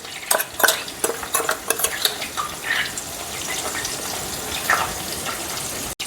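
A spoon scrapes and stirs through cumin, turmeric and red chilli powder in a hot pan, with soft sizzling and repeated irregular scraping strokes.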